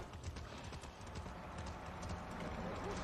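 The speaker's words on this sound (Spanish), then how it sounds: "Esto es un caballo del ejército" Army horse hooves in the video game Far Cry 6, a steady clip-clop of galloping steps running continuously at moderate loudness against a dense game soundscape.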